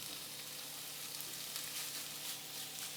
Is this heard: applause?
no